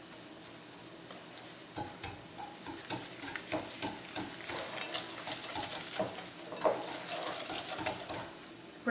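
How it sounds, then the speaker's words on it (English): An egg and sugar are beaten together in a bowl for a brownie batter, making a quiet, rapid, irregular clicking and tapping of the whisk or spoon against the bowl, close by and continuous. "crack it, and mix it in with the sugar"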